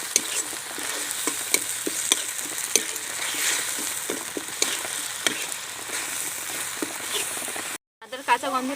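Ginger and green chili paste fries in a pan with steady, dense sizzling and frequent stirring scrapes throughout, broken by a brief silence near the end before the sizzle resumes.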